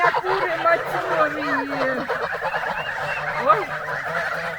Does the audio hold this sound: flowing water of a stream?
no